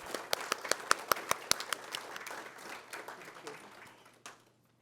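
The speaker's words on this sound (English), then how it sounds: "If we could have a round of applause for all our 50-year members." A meeting audience applauds 50-year members of a kennel club, starting with a few sharp, distinct claps that blend into faint scattered applause and then die away.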